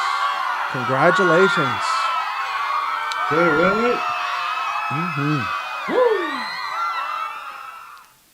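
Crowd cheering sound effect with whoops and yells in short bursts, loud and close, mixed with a voice speaking briefly over it.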